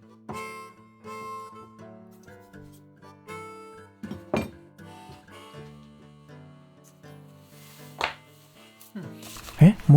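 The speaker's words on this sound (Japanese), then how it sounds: "こいつは食べやすいように一口サイズに細切りにしていく。" A knife cuts bacon into thin bite-size strips on a board, a few sparse, close chopping taps spaced through the passage over prominent background music.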